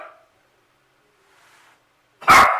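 A single sharp, loud dog bark bursts out close by near the end, preceded by near silence and a faint indoor murmur.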